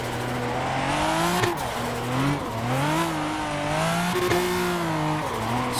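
A drifting car in a racing game driven with a direct-drive wheel: a steady engine drone rising and falling as the revs climb and dip, loud and continuous throughout with no talk.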